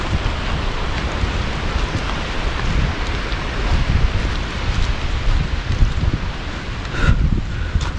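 Strong, cold mountain wind buffets the microphone high in the Dolakha hills near Charnawati, a loud rushing roar that swells and gusts unevenly from start to finish.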